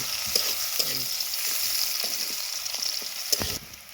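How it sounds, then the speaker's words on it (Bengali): Onion and green chili frying in soybean oil give a steady close sizzle with occasional stirring scrapes, no voices. "পেঁয়াজটা আর মরিচটাকে আমি ভালো করে ভেজে নিচ্ছি"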